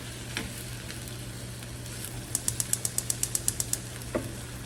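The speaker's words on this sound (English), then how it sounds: "Saute them up a little bit more." Wilting vegetables sautéing in a pan with salt and pepper, a faint steady sizzle with a quick run of sharp clicks from stirring and a couple of isolated knocks, no talk.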